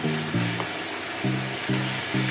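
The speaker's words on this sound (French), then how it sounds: "je verse maintenant ma viande" Meat seasoned with salt, stock cube, pepper and chili goes into a hot pan for sautéed tagliatelle and sizzles steadily and close, with brief stirring bumps through the hiss.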